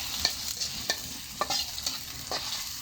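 Onions frying in a pan on a gas stove in a village home kitchen, cooked down toward crisp browned onions for a spicy country chicken roast; a steady close sizzle with sharp stirring scrapes every half second or so, no voices.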